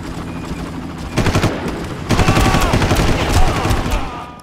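Machine gun fire in the Far Cry video game, with loud rapid bursts of automatic shots starting after a quiet second, a short burst first and then a longer sustained stream of rattling gunfire that stays close and harsh.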